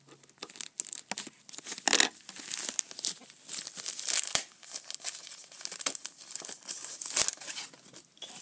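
A thin plastic bag being cut and opened while unpacking a toy haul, with continuous close crinkling and crackling and a few sharper tearing bursts, loud and up close with no talking.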